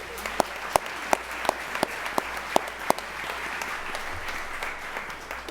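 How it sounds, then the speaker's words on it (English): Audience applause at a school board meeting honoring guests, a steady wash of clapping with one nearby person's loud, evenly spaced claps standing out in the first half before the sound fades slightly. "Let's have a big round of applause for these people."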